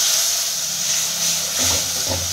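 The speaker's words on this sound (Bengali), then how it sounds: "এইভাবে আমরা গ্রেভিটাকে করে নিচ্ছি" Masala with cashew paste fries in a pan, giving a steady, close, hissing sizzle throughout.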